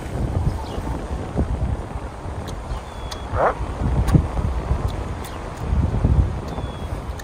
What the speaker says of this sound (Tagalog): Medyo malamig yung hangin.